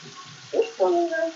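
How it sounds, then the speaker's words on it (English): Tap water runs while hands are rinsed at a sink, with soft splashing and trickling that swells in two short bursts toward the end, fairly close and moderately quiet. "Then it says rinse thoroughly with water."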